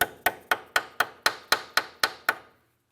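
Ten sharp metallic taps, evenly spaced and close, as a stubby 3/8 wrench is knocked onto a tie rod during inner tie rod replacement on a 2005-2007 Ford 500, each ringing briefly before the next.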